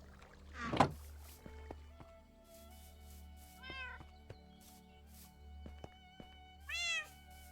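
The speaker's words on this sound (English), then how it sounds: "Are those cats all tamed? I mean, they must be because they're sitting." Tamed cats in Minecraft meow three times over a quiet game ambience, each a clear, close cry spaced a few seconds apart, with faint clicks between.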